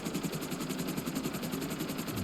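In the video game GTA Online, during the Cayo Perico heist, a helicopter's rotor chops in a fast, steady rhythm over a constant engine drone, moderately loud with no talking.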